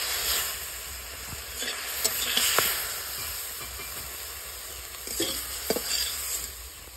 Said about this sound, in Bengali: হালকা করে ভাজা হয়ে গেছে, আমি এবার নামিয়ে নেব।